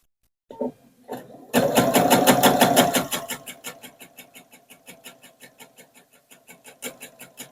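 A domestic sewing machine with a walking foot stitches through a quilt, a short burst then a fast steady run of needle strokes that slows to spaced, individual stitches, close and clear with no talking.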